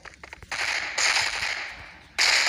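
Gunfire in the mobile shooter game Point Blank (PB Mobile): a quick run of sharp cracks, then two sustained bursts of loud, crackling shots, close and dominant with no talk over them.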